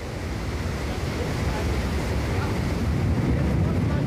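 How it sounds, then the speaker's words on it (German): Strong wind roars through a wind tunnel as engineers slowly raise the speed toward hurricane force 12, a dense, steady rushing that swells slightly louder toward the end, with no voices heard. "Die Ingenieure dort werden die Windgeschwindigkeit langsam steigern."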